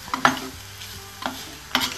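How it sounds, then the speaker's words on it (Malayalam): Banana stem stir fry in a clay pan is mixed with a spatula, giving three or four distinct scraping stirs over a soft continuous sizzle, close and clear with no voices. "എന്നിട്ട് നന്നായിട്ടൊന്ന് മിക്സ് ചെയ്തിട്ട് ഒരു 2 മിനിറ്റ് നേരം ഒന്ന് അടച്ചു വെക്കാം"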